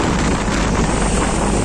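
Rough sea waves and gusting wind recorded from aboard a small fishing boat dredging for clams off the Vietnamese coast, a steady loud roar of wind buffeting the microphone over churning water throughout.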